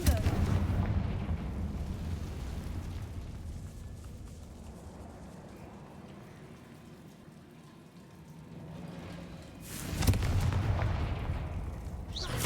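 A Confringo fire spell explodes in the Hogwarts Legacy video game, a deep booming blast with a rushing tail, followed by a second sharp burst near the end over quiet game ambience.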